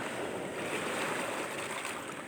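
Steady broadband rush of ocean surf washing onto a beach, continuous and fairly loud, with some wind buffeting the microphone.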